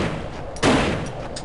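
A single sharp gunshot from a gun in the Fighting Force video game rings out loudly, then decays over low game background noise.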